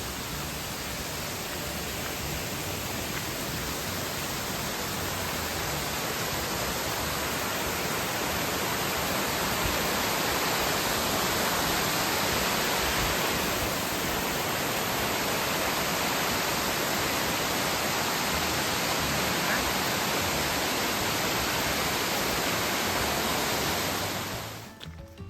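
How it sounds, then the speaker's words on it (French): A waterfall on a hiking trail roars in a constant, dense rush of falling water, loud and unchanging throughout before cutting off abruptly at the end. "Ouh, magnifique ça. Une belle cascade."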